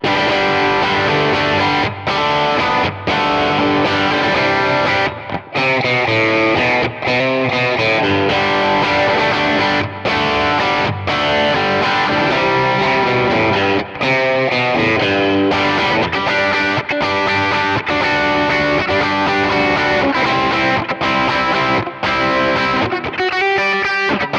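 An electric guitar plays through an overdrive stomp effect on a Kemper amp profiler with moderate drive, tone just above midpoint and the mix around two-thirds. The distorted chords and riffs are loud and continuous for the whole stretch, broken only by brief pauses, with no talking.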